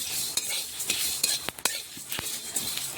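Ingredients are stirred and reheated in a pan, with a spoon scraping and clinking in uneven strokes over a soft, steady sizzle, close by.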